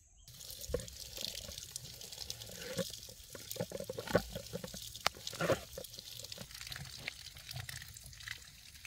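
Tap water runs steadily over moringa greens being rinsed in a sink, with splashing, dripping and pouring bursts rising and falling throughout, close and moderately loud, no voices.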